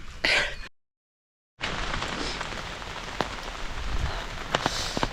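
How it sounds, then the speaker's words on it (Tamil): Heavy rain pours down steadily at a Kerala cardamom store, a dense loud hiss with scattered sharper drop impacts, briefly cut by a silent gap before resuming unbroken. "அந்த மூணு மணிக்கு மேலே நல்ல மழை ஜம்முன்னு மழை விழுகுது"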